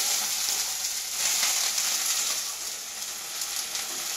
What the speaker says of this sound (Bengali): এবার আমি চিংড়ি মাছটা দেব। হালকা ভাজবো, বেশি না।